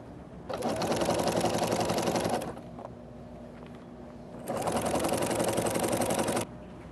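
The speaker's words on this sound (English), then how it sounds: "you're going to sew this seam right here" A sewing machine stitches a seam on a cloth diaper insert in two steady bursts of rapid, close mechanical chatter separated by a short pause.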